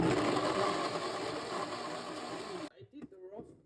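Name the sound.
blender grinding moringa soup ingredients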